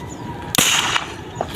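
A single sharp gunshot from a hunting gun being test-fired outdoors, a loud crack with a short noisy tail of under half a second, then a faint small click afterward against quiet background.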